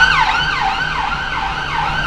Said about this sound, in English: he sent the ambulance our way